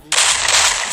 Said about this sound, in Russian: На ему в спину один выстрел.